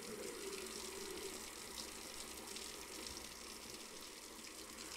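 Steady stream of water pouring into a brewing kettle in the beer brewing simulator game Brewmaster, a faint, even rushing fill without breaks.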